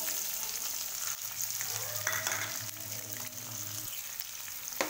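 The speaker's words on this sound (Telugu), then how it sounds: "నూనె వేసుకున్నాం, కొంచెం నూనె కాగిన తర్వాత మనం ఉల్లిపాయలు అయితే వేసుకున్నాం." Onions fry in hot oil for a vegetable masala curry, a steady close sizzle and crackle that holds throughout, with faint stirring scrapes and no voices.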